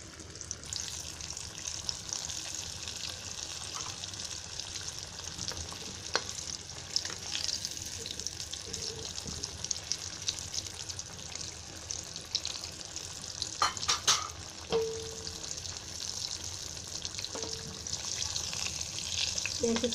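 Salmon or rawas fish pieces deep frying in oil in a pan on a gas stove, a steady close sizzle and crackle throughout with a few brief clinks of utensils.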